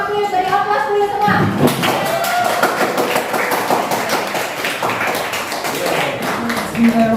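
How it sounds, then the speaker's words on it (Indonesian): A classroom group applauds before a presentation. A voice speaks briefly, then steady clapping from many hands fills the room and holds loud and even until the end. "beri aplaus dulu semua"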